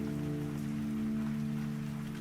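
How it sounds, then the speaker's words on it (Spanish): Steady rain patters against windows in an even, continuous wash, soft and moderately close, with a low background hum and no voices. "la lluvia golpeando las ventanas"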